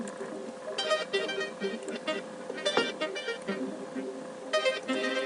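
Synth arpeggio with a delay effect left on throughout, bursts of bright pulsing notes echoing over a steady sustained tone, fairly quiet and continuous.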